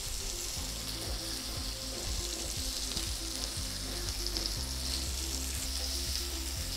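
Okra (vendakkai) sautéing in a pan makes a steady bright sizzle. A low repeated hum runs underneath, along with occasional soft stirring scrapes, and no one speaks.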